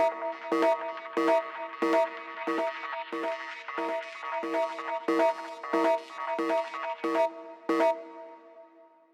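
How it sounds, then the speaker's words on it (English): A delay effect on a techno track in Ableton repeats a bright synth chord stab in a steady rhythmic pattern, each hit echoing and trailing off, loud and alone with no voices. "We've got a delay."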